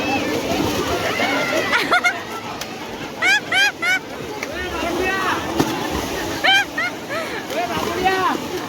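Water splashing and churning as a crowd plays in a swimming pool at Galteshwar Mahadev, with shouts and excited voices over steady babble and several bursts of splashing.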